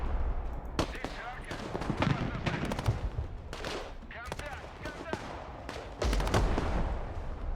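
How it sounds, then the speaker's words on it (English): Rocket launcher and other weapons firing in the military strategy game Warno, a series of sharp, loud blasts and bursts of gunfire at irregular intervals, with one heavier blast near the end. "Find out if he has a rocket launcher now,"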